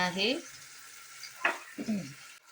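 Onion and tomato fry in a pan with a soft, steady sizzle, while a voice talks over it in short bursts.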